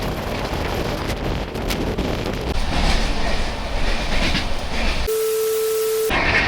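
A Duronto Express running on Indian Railways on the Chennai to Delhi route, heard as steady, loud rolling rumble with faint rail clatter and wind buffeting for most of the stretch, then a sudden cut to a quieter tone near the end.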